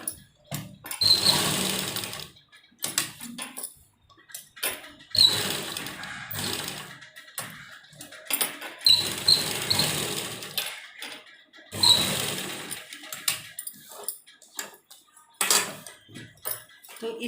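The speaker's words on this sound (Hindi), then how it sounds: "और एक अच्छी सिलाई हम इस पर लगा देंगे" Sewing machine stitching the sleeve of a kurti in bursts, each run a rapid mechanical whir lasting a couple of seconds, separated by pauses with faint handling clicks, close and moderately loud.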